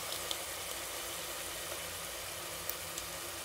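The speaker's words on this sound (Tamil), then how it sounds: "இஞ்சி பூண்டு போட்டாச்சு. ஸோ இதையும் லைட்டாக வதக்கி விடுங்க" Ginger garlic paste frying in a pan with tomatoes for hotel-style chicken biryani gives a steady, even sizzle throughout, with a few faint clicks and no voices.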